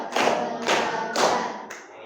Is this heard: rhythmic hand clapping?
yes